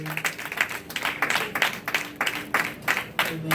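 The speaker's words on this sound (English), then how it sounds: "Come on, clap your hands and just give Him some glory." Church congregation clapping hands in rhythm during a Sunday morning service, steady repeated claps from a crowd at moderate volume with faint background sound.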